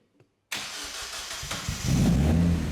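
A kit car engine cranks and catches after a brief silence, settling into a loud, rough running rumble that swells stronger toward the end.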